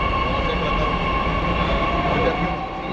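Inside the Mashaer train carrying Hajj pilgrims, a loud continuous rumble of a moving rail car with a steady whine and faint wheel noise throughout.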